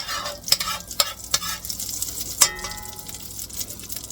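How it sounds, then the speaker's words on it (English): Bacon grease sizzling and frying in a pan while food is stirred, a steady crackling hiss with several sharp clinks and scrapes of a utensil against the pan, close and fairly loud, no talking. "now I do have just a little bit of bacon grease that I saved, and I'm just going to get a hint of that."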